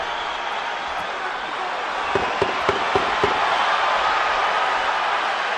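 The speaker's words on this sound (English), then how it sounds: "the crowd trying to implore Roman Gonzalez to dig down and find some more" A boxing arena crowd roars steadily behind Roman Gonzalez in his fight with Srisaket Sor Rungvisai, a dense, loud wash of cheering with a few brief sharp knocks partway through.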